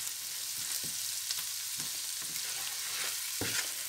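Spices with turmeric fry and get stirred in a pan while preparing okra, a steady soft sizzle broken by several sharp scraping stirs at irregular intervals.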